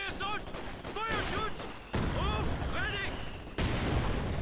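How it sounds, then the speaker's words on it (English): Artillery and gunfire rumble and crack through a battle in the video game Company of Heroes 2, with a continuous dense din, sudden louder blasts, and a commentator talking over the action. "Still lots of artillery going in."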